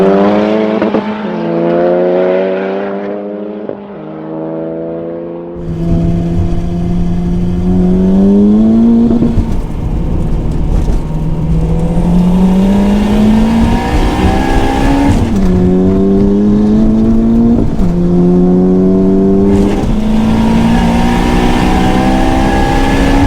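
Two Honda Civic Type Rs, a 440 hp turbocharged EP3 and a 430 hp stage 2 FK8, drag racing side by side with loud engines revving hard through repeated rising gear pulls and shifts, close and continuous.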